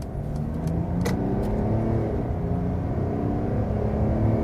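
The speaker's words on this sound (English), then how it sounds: "acceleration of the diesel, 40 kilometers to" A 2021 Mercedes E-Class Coupé facelift with a diesel engine accelerating hard from around 40 km/h, a steady muted engine drone and road rumble heard from inside the well-insulated cabin, with no talking.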